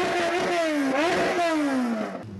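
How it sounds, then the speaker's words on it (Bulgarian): Motorcycles rev loudly during the opening parade of the motorcycle season, a procession from Alexander Nevsky Square to the National History Museum; engine pitch rises and falls in sustained, close, overlapping revving. "Рев на мотори"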